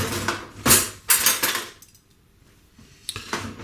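Two ordinary metal dessert spoons clinking and scraping together while seeds are handled for a bread and butter pudding, several bright close knocks separated by quiet pauses.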